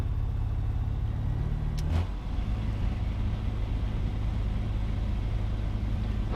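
A light aircraft engine idles with a steady low drone while the plane taxis and backtracks along the runway toward its takeoff end, and a brief sharper transient cuts through partway.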